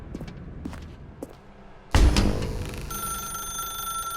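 A telephone rings in a dark room in The Stanley Parable, a steady electronic trill that starts midway and keeps going loud and close after a quieter stretch of faint ambience and soft thuds.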